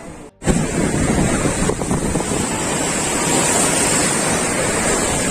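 Ocean surf breaking steadily at Kanyakumari, where three seas meet, with a loud continuous wash of waves and heavy wind buffeting the microphone after a brief quiet gap at the start.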